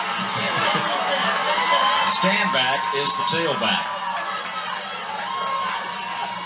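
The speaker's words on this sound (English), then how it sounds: "what do you call that, a raucous crowd?" A raucous crowd at a 1999 high school football game between A L Brown and Northwest Cabarrus, whooping and cheering in a loud swell that peaks and then settles into a steady roar beneath an announcer's play-by-play.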